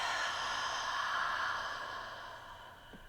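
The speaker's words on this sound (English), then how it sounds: "take a deep breath in through your nose. And exhale." A long, soft breath drawn in through the nose and let out during a guided meditation session, one slow, smooth airy exhale fading gradually, close and quiet with no talking over it.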